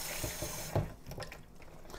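Tap water runs into a sink while a Cosori Pro II 5.8-quart air fryer basket is rinsed with soapy water, a steady close splashing wash that eases slightly after a brief clatter partway through.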